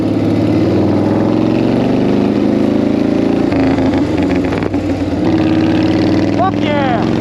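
An old 1940 flathead motorcycle engine runs at a slightly high idle, a loud, steady low rumble with a brief shift in tone midway.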